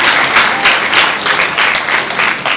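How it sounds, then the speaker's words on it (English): Audience at a university convocation ceremony claps loudly and close, a dense burst of applause with pulsing swells lasting a few seconds. "Please clap very well."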